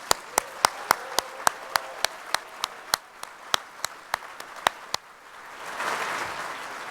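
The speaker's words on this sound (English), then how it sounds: "Would you join me in one more round of applause for them?" At an awards ceremony, a single pair of hands claps sharply and close in a steady rhythm, around twenty claps, before fading into a softer, more distant swell of crowd applause.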